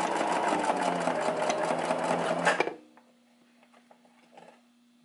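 Sewing machine backstitching hair wefts onto a cap: a loud, steady mechanical whir for about two and a half seconds, then it stops abruptly, leaving a faint hum and small handling clicks.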